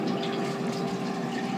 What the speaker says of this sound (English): Let me actually dump all this water out.